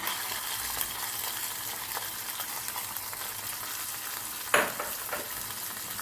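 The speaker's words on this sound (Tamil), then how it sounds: "முந்திரி நெய்யில் வறுத்தாச்சுங்க அப்படியே அந்த நெய்யோட முந்திரி பருப்பு போட்டுக்குவோம்" Cashews fried in ghee being tipped into a pot of sweet pongal, a steady close sizzle and frying hiss with stirring, and one brief louder splash of sizzling fat near the end.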